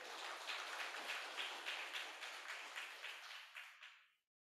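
Audience applause at a university award ceremony and cultural oration, a quiet, steady patter of many hands clapping together for a few seconds before it fades out.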